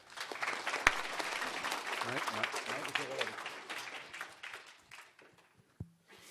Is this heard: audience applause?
yes